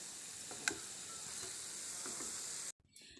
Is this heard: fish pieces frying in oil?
yes